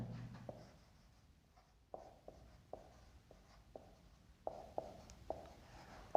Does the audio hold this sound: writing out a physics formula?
yes